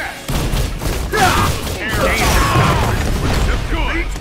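A Proton Cannon attack in the fighting game Marvel vs. Capcom: Infinite: loud, continuous mechanical whirring and rumbling blasts with booming thuds, sustained for about four seconds.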